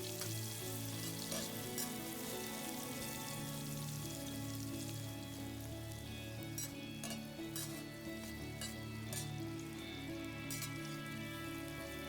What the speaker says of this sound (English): Let's fry the onion.